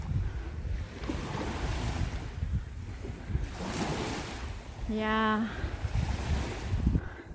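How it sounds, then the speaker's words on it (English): Ocean waves wash continuously onto a beach in steady wind, a broad rolling surf filling the whole stretch, with a brief voice and a short whistle-like tone briefly riding over the water noise. "It's the ocean here."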